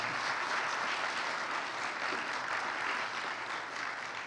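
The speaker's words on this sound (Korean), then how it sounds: "박수로 환영." An audience claps steadily throughout to welcome a speaker at a Korean environmental organization's 40th anniversary event, a dense, even wash of applause with no talk.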